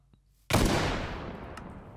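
One sharp, loud gunshot in Minecraft cracks out after a quiet moment and trails off in a long, fading echo.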